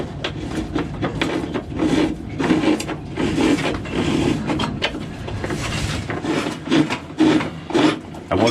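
Galvanised wire pushed through a boat's cable run to pull a cable for a Raymarine Axiom Pro install. It makes a continuous close scraping and rasping with irregular strokes and rubbing against the surrounding material, without speech.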